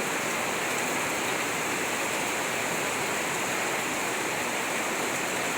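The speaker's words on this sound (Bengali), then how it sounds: "বৃষ্টির ধারা অজুড়ে পড়ছে" Heavy rain pours steadily onto a house courtyard, a dense, even hiss with no pauses and no voices.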